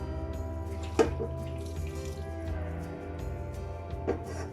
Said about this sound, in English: We drain them